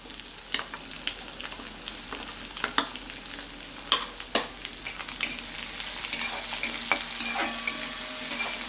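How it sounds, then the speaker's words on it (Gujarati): Finely chopped onion frying with garlic in oil for Gujarati palak shaak, a steady close sizzle broken by repeated sharp clicks and scrapes of stirring, growing slightly busier toward the end. "લસણ ગોલ્ડન બ્રાઉન થાય કે ઝીણી સમારેલી એક ડુંગળી નાખીશું"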